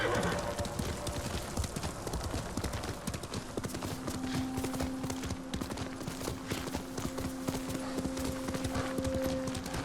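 Steady clip-clop of horse hooves at a brisk pace in Ghost of Tsushima, with a brief whinny and some voices in the background.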